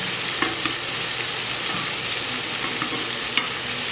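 Shrimp frying in a pan, a steady close sizzle with occasional light clicks as pieces are turned, no voices.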